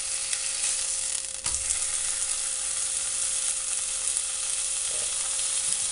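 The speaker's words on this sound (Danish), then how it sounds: "så starter vi kraftedeme bare med at stege noget af det lækre bacon" Bacon frying in a pan, a steady bright sizzle and crackle running throughout with a faint tonal hum underneath and a soft knock partway, no voices.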